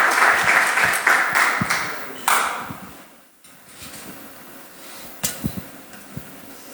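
A church congregation applauds, clapping loudly at first, then fading and dropping away before scattered claps return, with no clear voices.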